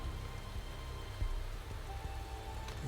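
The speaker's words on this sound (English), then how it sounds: "Feeling like it's probably going to rain the whole race." Steady rain falls during a race in the game Motorsport Manager as an even, dense hiss with soft patter, unbroken and moderately quiet for the few seconds heard.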